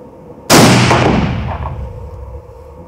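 A single loud gunshot fired at an open-sight shooting contest, a sharp close crack followed by a long echoing decay across open ground.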